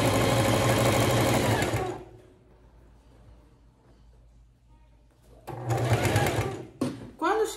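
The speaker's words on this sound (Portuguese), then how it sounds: "E a gente segue costurando, já finalizando o acabamento da nossa peça." A sewing machine stitches a cushion cover in two loud, close bursts of rapid, even whirring, separated by a quiet pause of a few seconds.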